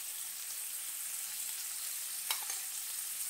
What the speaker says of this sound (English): I'm going to add the rest of the marinade